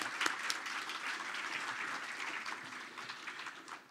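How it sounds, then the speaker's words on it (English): A conference audience applauds at a water treatment talk, steady mid-distance clapping from a sizable crowd that holds evenly for four seconds and tapers slightly at the end. "So let's give them a big round of applause for doing that."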